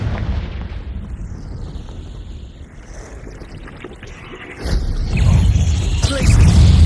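Confringo fire spell explosion in the video game Hogwarts Legacy on PS5, a rumbling blast that swells near the end over a steady low background roar of game sound.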